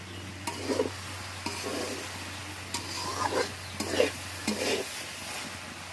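Okra bhindi bhaji stir-fries in oil with green chillies in a pan, a steady low sizzle under repeated spatula scrapes and stirs, close by, with a constant hum in the background.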